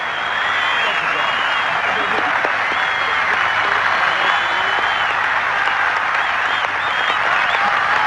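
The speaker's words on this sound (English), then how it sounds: "he's just waiting for the applause for Seve walking up the 18th fairway to cease" Sustained, dense applause from a large golf gallery at the 1984 Open Championship as Seve walks up the 18th fairway, a steady roar of clapping with crowd noise throughout and no break.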